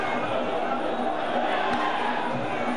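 Crowd at a Muay Thai fight cheering and shouting in a steady, dense roar throughout, heard from within the arena.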